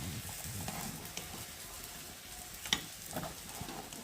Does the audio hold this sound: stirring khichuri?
yes